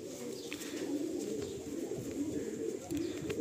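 Andhra pigeons at a loft in Behala coo softly and continuously while being handled, a low steady murmur running throughout with faint scattered chirps above it.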